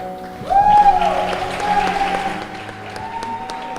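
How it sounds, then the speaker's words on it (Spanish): Audience applause at a church testimony gathering, loud clapping swelling in about half a second and then tapering gradually to a lighter patter, with a sustained tonal hum running underneath. "aplauso."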